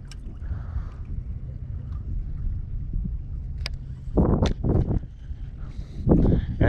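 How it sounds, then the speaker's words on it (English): Steady low wind rumble buffets the microphone outdoors on the water, with a few louder gusts and splashy bursts toward the end. "And it's windy out here."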